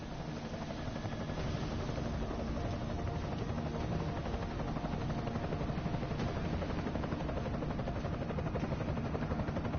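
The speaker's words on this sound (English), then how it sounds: "Enemy helo sighted." An enemy helicopter in Deus Ex: Mankind Divided keeps up a constant dense rotor drone and engine whine, steady and fairly loud from start to end, with no talk.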